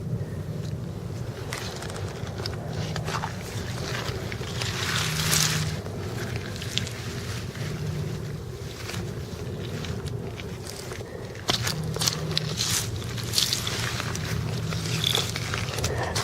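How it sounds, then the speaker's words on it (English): A steady low rumble of the cruise ship Norwegian Gem's engines carries across open water off Saint John, New Brunswick, with wind buffeting the microphone throughout. "Gosh, it's a pretty big boat."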